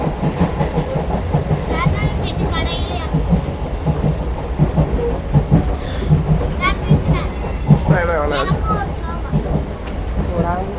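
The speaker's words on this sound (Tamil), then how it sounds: "இப்போ வந்துட்டு நாங்கள் ட்ரெயினில் போயிட்டுருக்கோம்" A moving passenger train rumbles steadily from inside the carriage, with a rhythmic rattle beneath people talking throughout.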